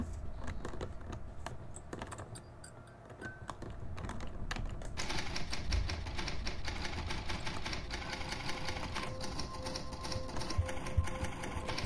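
In the Backspace video game, a continuous stream of key taps runs over a dense mechanical drone and hum, with the keystrokes partly buried in the steady background and no one speaking.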